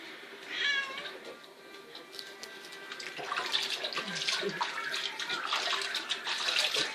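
A bathtub fills from a running tap for a bath, a steady rush of water while a cat meows loudly several times near the start and again amid the splashing.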